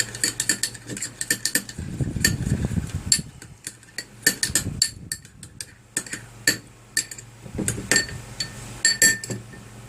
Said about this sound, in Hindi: इनको लेने के बाद इसको खूब अच्छी तरह से मिक्स कर लें